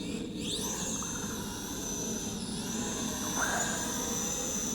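Small DM IN107S folding FPV drone lifting off on automatic takeoff, its motors giving a steady, close, high-pitched whine with a constant broadband hiss and slight pitch shifts throughout.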